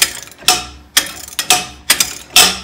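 Metal scratching from an Infiniti Q50 suspension arm being worked on during a coilover lowering job, heard as about six sharp, loud scraping strokes in an uneven rhythm, close by with no talk.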